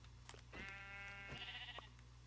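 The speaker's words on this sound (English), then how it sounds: "Let's get this sheep too." A Minecraft sheep gives a single drawn-out bleat, close and clear, over a faint steady background hum from the game.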